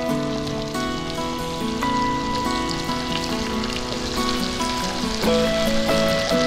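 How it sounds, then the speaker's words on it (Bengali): Raw pumpkin pieces frying in a pan with potatoes, a steady bright sizzle like rain on a surface, continuous and close, with brief scraping of a utensil and a louder surge near the end. "এবার আমি কাঁচা কুমড়োগুলো দিয়ে দিচ্ছি"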